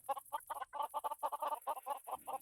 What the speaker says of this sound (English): And then we'll have the chickens down in here.